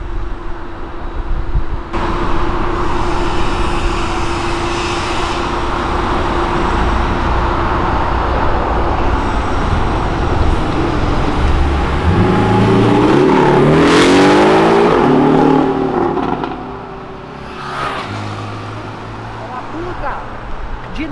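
A Porsche driving off and accelerating, a loud, sustained engine roar with rising pitch that swells and then drops away, recorded outdoors with people talking over it.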